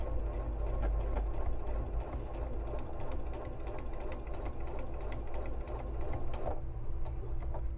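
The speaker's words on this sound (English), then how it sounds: "over to the machine and give it a little sew." A sewing machine stitches a foundation paper piecing quilt block, its steady rapid mechanical hum and needle clatter running continuously and evenly at close range with no talking.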